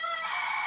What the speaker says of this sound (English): Sorry about my house rooster.